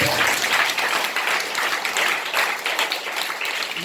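A congregation claps during a Telugu Christian worship service: dense, continuous applause at close range for about four seconds, with no pauses.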